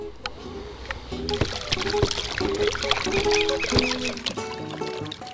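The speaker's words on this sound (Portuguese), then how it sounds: "isso a gente faz simplesmente agitando de uma forma vigorosa a solução" Vigorous stirring of a liquid humus solution in water, with continuous sloshing and splashing and clucking fowl calling nearby throughout.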